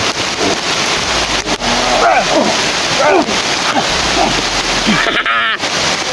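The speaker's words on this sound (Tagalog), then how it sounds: "Lakas ng ulan!" Heavy rain pours down as a dense, constant hiss and splatter, with voices shouting over it throughout.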